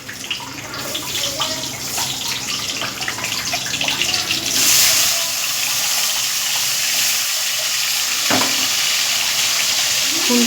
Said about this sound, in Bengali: তো কড়াইতে উচ্ছে ঢালছে, এই সরি ছাড়ছে আমার মা।